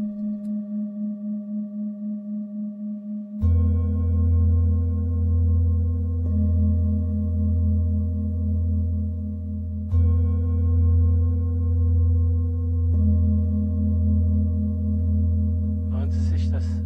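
Tibetan singing bowls resonate during a sound massage, with a steady pulsing low hum and bright overtones, fresh strikes renewing the ringing every few seconds and a short scrape at the end.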